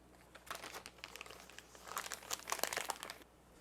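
Plastic packaging around an LS1/LS6-style throttle body gasket crinkles and rustles as it is handled and torn open, quiet and close, with crinkling that builds to a busier burst near the end.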